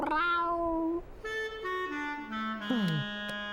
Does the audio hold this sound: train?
no